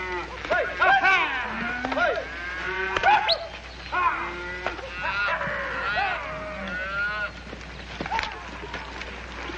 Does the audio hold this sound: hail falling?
no